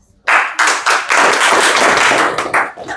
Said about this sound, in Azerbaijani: Alqışlayaq.